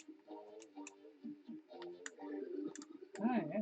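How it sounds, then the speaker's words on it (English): A Commodore 64 joystick gives off sharp, scattered clicks picked up through the microphone, quiet and irregular, with faint speech underneath. "You're going to hear a lot of clicking"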